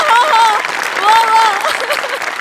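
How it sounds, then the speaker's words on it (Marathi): A studio audience applauds and cheers for the performer Bane after a comedy skit, a dense wash of clapping under loud, excited voices. "म्हणजे बनेसाठी टाळ्या"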